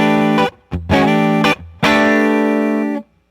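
Electric guitar through a Universal Audio amp in lead mode with boost on and the bright switch off, playing three distorted chords, two short stabs and then a longer sustained chord, loud and close with no talking.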